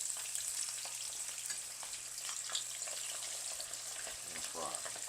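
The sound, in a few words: beltfish pieces pan frying in oil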